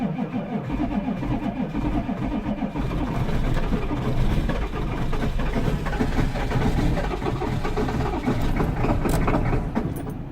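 A 1996 6.5 diesel engine cranks on a cold start after a glow plug cycle, a steady loud churning with low rumble that builds and carries on without pause, not plainly catching.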